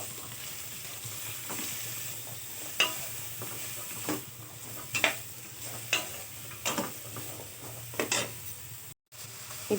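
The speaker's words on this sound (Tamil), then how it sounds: "ரெண்டையும் சேர்த்து ஆட் பண்ணிக்கலாம். இப்போ நல்லா மிக்ஸ் பண்ணி விட்டுக்கலாம்." Chopped carrots and beans stir-fried with onion in a pan, a soft continuous sizzle broken by repeated scraping and stirring clatters of a spoon against the pan.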